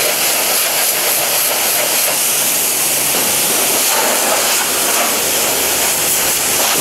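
A pressure washer sprays water onto a scooter in a loud, steady, close hiss that runs without a break throughout, with no talk.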